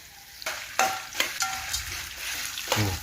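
Ingredients for nalleru chutney fry in a pan, a steady sizzle broken by several scraping stirs of a spoon against the pan, heard up close with no one talking.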